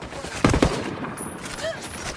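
Rapid bursts of gunfire in Ghost Recon Wildlands, a tight cluster of close, loud shots followed by a more distant rattle, with voices in between.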